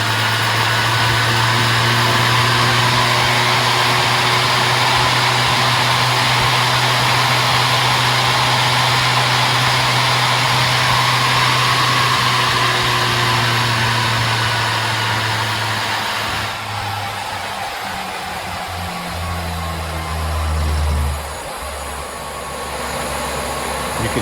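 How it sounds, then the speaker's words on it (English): A treadmill motor runs on an SCR controller with a loud, continuous electric hum and whine that holds steady, then drops in pitch as it slows to the set speed. "You can hear we've now slowed down to the speed that the SCR is set at, and it's running beautifully."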